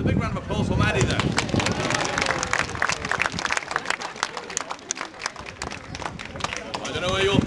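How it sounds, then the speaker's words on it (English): An audience at an open-day spectacle in Oxford bursts into loud, sustained applause and cheering for a participant, with dense rapid clapping and crowd noise filling the whole stretch. "A big round of applause for Maddie there."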